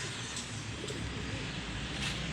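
Faisalabad-breed pigeons from a breeder's loft coo softly in low, murmuring bursts beneath a steady hiss of background noise, with no talking.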